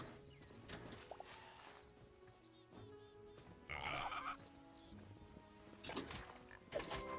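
Sheep bleating in the video game Hytale, a few faint bleats over soft in-game ambience and footsteps, with no talking.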